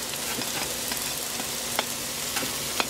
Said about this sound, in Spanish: Vamos ahora a agregar el repollo para sofreírlo ahí también con la verdura.